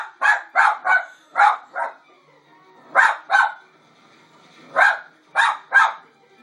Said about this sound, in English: Look at the doggies.